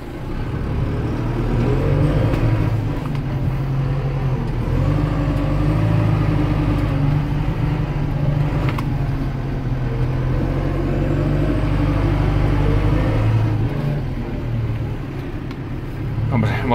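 A Renault Celtis 456 RX tractor engine rumbles steadily and loudly close by, with low droning and slight revving as it drives back and forth, a voice heard briefly over it.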